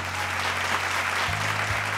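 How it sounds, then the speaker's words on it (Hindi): An audience claps in dense, sustained applause, many hands together at close range, steady throughout the short stretch. "हम क्या खातिर हम ताली बजावत हनी"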